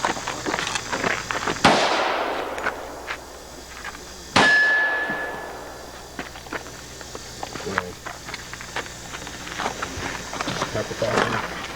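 Loud, sharp gunshots ring off steel targets during a shooting course, two prominent blasts with metallic ringing decay amid smaller impacts, with voices talking in the background.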